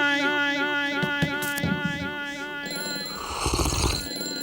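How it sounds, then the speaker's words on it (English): A telephone rings with an incoming call on a live call-in show, a repeating warbling electronic ring that runs steadily for a few seconds before giving way to rustling and a voice. "Please answer the phone immediately."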